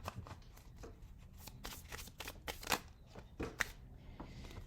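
A card being drawn from the Herbcrafters tarot deck: soft, close papery riffling and flicking, a quick series of shuffling snaps with a couple of sharper slaps, fairly quiet with no voice.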